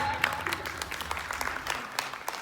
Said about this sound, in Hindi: तो प्लीज अपने लिए ताली बजा दीजिए एक बार।